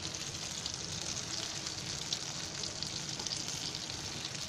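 Tuna (kupa) fish pieces fry in oil on a hot tawa, producing a continuous dense sizzle and crackle, close and steady, with no voices.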